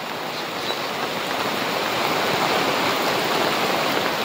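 Rainwater rushes continuously through a cotton field after heavy rain, a steady loud gushing like a swollen stream, growing slightly stronger partway through; no one speaks.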